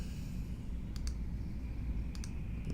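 Two pairs of quick, sharp computer mouse clicks on a map measuring tool, faint over a steady low hum and room noise, with a third soft click at the end.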